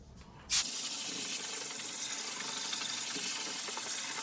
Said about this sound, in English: is a few sprays on both sides